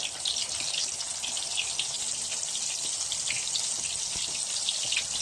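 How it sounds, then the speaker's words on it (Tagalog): Shrimp and bacon fry in preheated oil with a steady, bright crackling sizzle that stays even and close throughout. "Dito naka-preheat oil. Fry na natin unti-unti."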